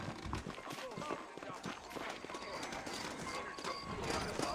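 Saddled horses in the Red Dead Redemption video game clip-clop along at a walking pace, their hoof beats steady and mid-distance under a busy layer of ambient game sound.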